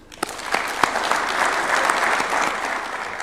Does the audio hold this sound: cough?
no